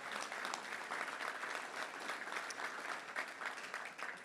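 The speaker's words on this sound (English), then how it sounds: "Let's give them all a round of applause." Sustained applause from a luncheon club audience, a dense, steady patter of many hands clapping that holds at an even level throughout with no voices rising above it.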